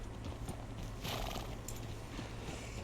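Horse from the video game Red Dead Redemption 2, with soft hoof clops and a brief whinny-like burst over a steady low hum and rain-like hiss, with no talk.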